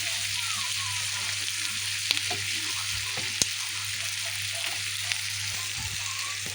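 Okra fries in a pan for a shrimp and okra dish, a loud, constant close sizzle with a few sharp utensil clicks from stirring.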